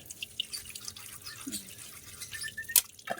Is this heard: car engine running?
no